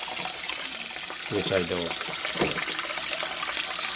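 Tap water runs steadily over rice being rinsed in a home kitchen, a constant wash of splashing with a person talking over it.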